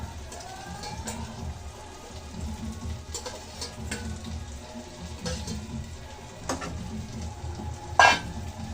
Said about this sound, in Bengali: আলু দিয়ে মশলাটা ভালো করে কষিয়ে নিয়েছি। এখন মাছগুলো দিয়ে দিচ্ছি।